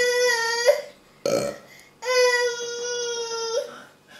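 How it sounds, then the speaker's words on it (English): A toddler drinking from a doidy cup gives two long, tonal, voiced burps with a short gruff sound between them, close and fairly loud. "Oh, yeah, a burp."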